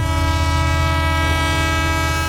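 A train passes a closed railway crossing gate, sounding a loud, steady, droning horn that holds without a break over the low rumble of the rail cars.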